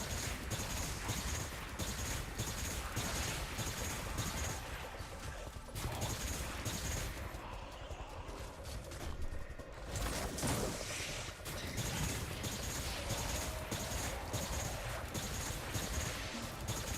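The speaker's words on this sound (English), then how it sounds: "Imagine shooting a fusion rifle like this in Destiny 2, man." Fusion rifle fire in the video game Destiny: Rising, with dense, continuous bursts of loud energy-weapon shots and crashing impacts that run almost unbroken, pausing briefly before resuming.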